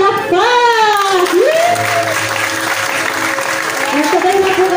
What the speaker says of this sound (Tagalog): samahan natin sila na palakpak